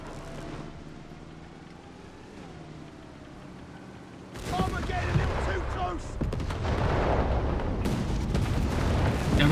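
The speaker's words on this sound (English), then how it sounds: "And now we got the Flak 36. Ready to blast some British tanks." Flak 36 gun in Company of Heroes 3 fires on British tanks, loud booming blasts and battle noise breaking in at about four seconds and holding dense to the end, after a quieter stretch carrying a voice.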